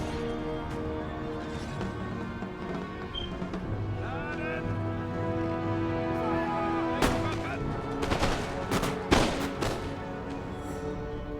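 Cannon and musket volleys in an Empire: Total War battle: a steady din of distant fire, then several loud, sharp blasts and crackling volleys clustered toward the end.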